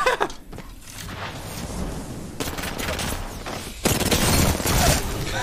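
Video game gunfire crackles in dense bursts over a continuous loud din, with a brief lull near the middle before heavy firing resumes toward the end.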